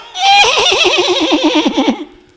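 A horse gives one loud, close whinny, a high quavering neigh that wavers rapidly and trails off after about two seconds.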